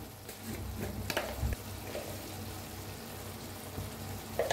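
Onion and tomato fry quietly in a pan with a soft, steady sizzle, broken by occasional stirring scrapes and light clacks of a spoon. The sounds are close and there is no talk.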